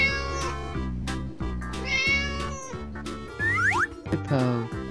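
A cartoonish cat meow sound effect from a video game animal quiz, a short clear meow over upbeat background music with chiming jingles and a rising whistle near the end.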